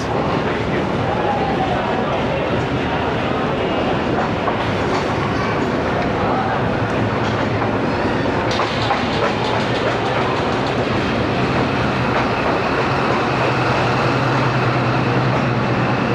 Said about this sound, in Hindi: जिस लोकोमोटिव ने लीड करना है वो लग के आ रहा है वॉशिंग लाइन से, ZCU 26406